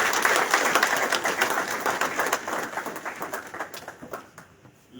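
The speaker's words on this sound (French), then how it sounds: "Je vous prie d'applaudir pour cet avènement." A hall audience applauds at the launch of a doctoral philosophy unit at a university, a dense steady wash of many hands clapping at moderate distance that thins slightly toward the end.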